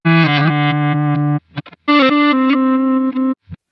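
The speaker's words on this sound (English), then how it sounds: "So you're just getting the reverse sound and you're only getting one." An electric guitar runs through a reverse delay effect on a Quad Cortex, producing loud, distorted sustained notes that swell in. Two long phrases are broken by short gaps and brief choppy reversed fragments, with no talking.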